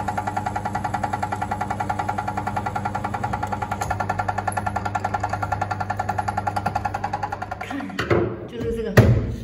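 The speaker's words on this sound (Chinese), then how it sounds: "现在打孔。" A power drill bores holes into a wall indoors with a loud, rapid, steady pulsing hammer for about eight seconds, then stops, followed by a few clunks and handling knocks.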